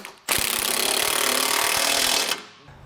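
A power tool spins base plate bolts tight on a 2017 Jeep Wrangler, giving one loud, continuous buzzing, rattling run of about two seconds that starts abruptly and stops sharply, close up and with no talking.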